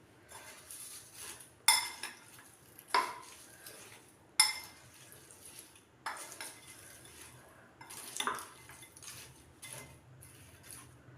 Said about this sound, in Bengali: এখন আমি সবগুলো উপকরণ একসাথে মিশিয়ে নেব।